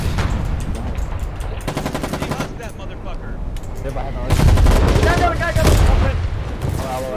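Heavy machine gun fire in the war game Foxhole, rapid bursts of shots over a busy battlefield, with the loudest bursts swelling partway through amid other gunfire and booms; a voice speaks briefly.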